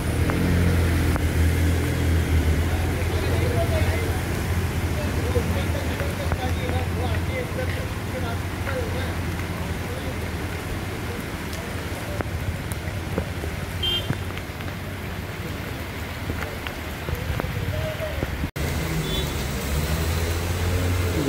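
Steady traffic rumbles along flooded roads during heavy rain in Vasai Nalasopara, engines droning close by through a constant wash of noise with no break.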